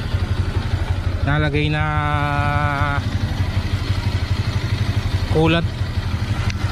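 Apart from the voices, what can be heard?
Sniper 150 motorcycle engine idling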